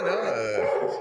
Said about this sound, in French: je sais pas qui jappe, là, mais... C'est le chien de David qui est pas d'accord avec vous, Gilles